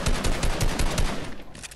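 Loud, rapid automatic gunfire from the video game Fortnite rattles in a dense continuous burst, then cuts off abruptly.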